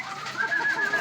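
Young pigeons coo in a soft, steady, rolling call that rises slightly and continues through the short moment, close by with faint background hiss.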